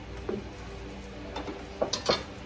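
Metal clanks and knocks sound as a large wok is handled and unboxed, a few scattered close clinks and thuds with no talk.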